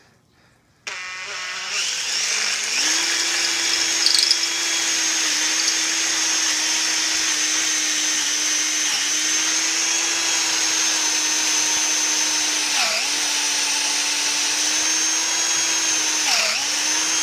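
A drill press spins at high speed while slowly boring a hole into a wooden dowel, a steady, loud motor whine that starts abruptly and holds, with brief dips as the bit bites into the wood.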